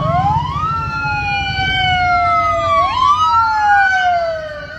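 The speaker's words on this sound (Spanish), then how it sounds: "Ahí se va la ambulancia" An ambulance siren wails with rising and falling tones as the ambulance drives away along a street in Tuxpan, Veracruz, loud at first and then fading a little, with traffic rumble underneath.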